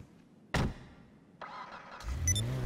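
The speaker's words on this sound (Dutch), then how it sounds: "En op het moment dat de auto gestart is, kan jij gas geven." Elegy sports car engine starting in the video game GTA 5 Online: a sharp click, then a starter crank that catches and settles into a steady idle with a rising rev at the end, fairly close and loud.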